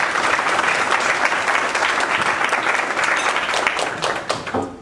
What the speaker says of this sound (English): please give a warm round of applause for Edward Vilmetti